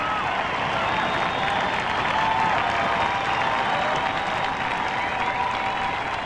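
Steady, sustained applause from a large crowd for finalists at a ballroom dancing championship fills the whole stretch, dense and even, with faint cheering mixed in.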